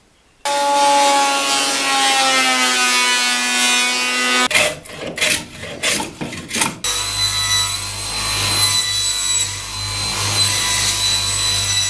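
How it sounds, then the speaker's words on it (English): Oak pallet wood boards are worked with a power tool, opening with a loud high whine that drops in pitch, then several short rough cutting bursts, followed by a steady motor drone. "I have to plane them and do a straight edge on them and rip them, router them"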